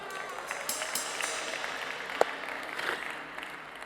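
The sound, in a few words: audience applause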